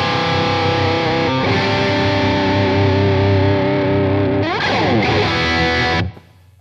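A Schecter Nick Johnston electric guitar on a split humbucker pickup through a high-gain, distorted tone with effects, chugging sustained chords and then a quick sliding run before cutting off abruptly near the end, loud and close.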